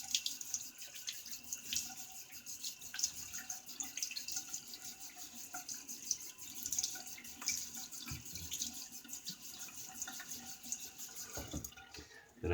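A tap runs steadily into a sink while a razor is rinsed during a shave, a continuous faint splashing stream that stops abruptly near the end.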